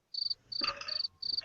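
Crickets chirping as a sound effect, four sharp, bright trilled bursts in quick succession with short gaps, loud and close over an otherwise silent background.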